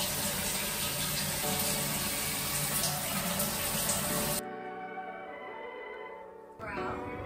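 Shower water runs in a steady, loud rush that fills the first four seconds, then drops to a much quieter trickle before a brief surge at the end.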